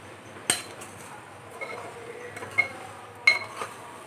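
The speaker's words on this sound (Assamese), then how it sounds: "এয়া চাউলখিনি দিলোঁ। এতিয়া মই ভালদৰে লৰাই লৈছোঁ।" A utensil stirs raw rice in ghee in a pot on a home gas stove at medium flame, giving a few sharp metallic clinks and soft scrapes, spaced irregularly against a quiet kitchen background.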